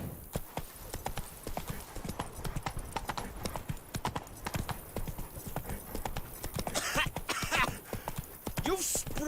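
Geralt's horse Roach gallops in The Witcher 3 video game, producing rapid, loud hoofbeats in a steady running rhythm with a brief neigh near the end. A player talks over the sound.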